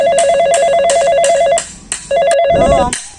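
A telephone rings in a rapid electronic warbling pattern, two bursts with a short gap between them, loud and close. Brief voice-like sounds overlap near the end.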